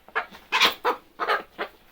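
A hen being held clucks in a series of short, close, fairly loud bursts, about six calls over two seconds with brief gaps between them, and no talking.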